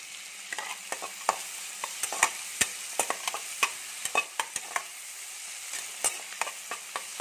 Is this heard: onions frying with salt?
yes